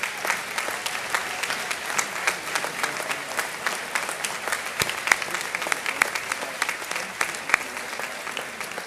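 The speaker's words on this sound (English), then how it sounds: "let's give them all a big round of applause" A high school graduation crowd applauding, sustained dense clapping with scattered sharper claps standing out, moderately loud and steady throughout.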